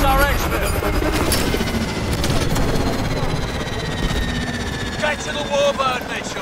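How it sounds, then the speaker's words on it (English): Warbird aircraft giving air support in Call of Duty: Advanced Warfare, a loud steady rotor-like engine roar mixed with bursts of gunfire and clanking battle effects, with a voice speaking over it. "Warbird inbound to provide air support."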